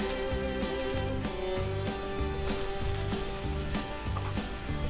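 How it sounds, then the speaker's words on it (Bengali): Cut potatoes fry in hot oil in a wok for a cauliflower-potato curry, giving a continuous close sizzle with light stirring scrapes, heard under steady background music. "তেল গরম করে দিয়ে দেব কেটে রাখা আলু।"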